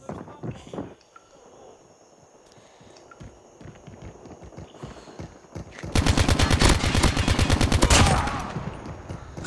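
Rapid automatic gunfire in a first-person shooter combat scene, a dense sustained burst of loud rattling shots after scattered earlier rounds, with voice callouts mixed in.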